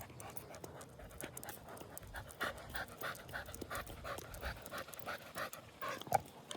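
A dog pants rapidly and repeatedly after sniffing another dog's scent, with quick rhythmic breaths close by and a brief whimper near the end.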